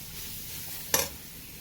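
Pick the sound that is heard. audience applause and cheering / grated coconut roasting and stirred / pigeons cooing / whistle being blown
grated coconut roasting and stirred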